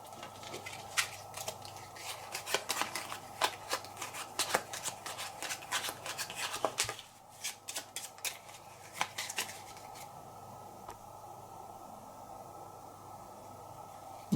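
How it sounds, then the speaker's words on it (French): Playing cards being handled, drawn and shuffled during a solo tabletop card game about building castles, close and crisp with rapid riffling flicks for the first half, then scattered card snaps before fading to quiet handling. "Et je défausse cette carte."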